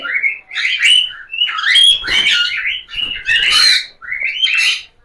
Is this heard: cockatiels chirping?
yes